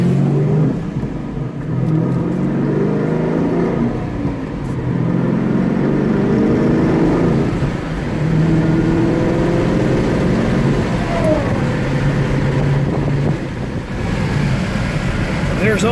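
A 2011 Dodge Challenger R/T with a manual clutch and six gears drives on the road, its engine droning steadily and rising as it accelerates, with wind and road noise and someone talking over it.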